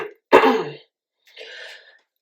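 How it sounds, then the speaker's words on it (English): A single sharp asthmatic cough, close and loud, followed a moment later by a softer throat-clearing sound, then silence. "I apologize for the coughing."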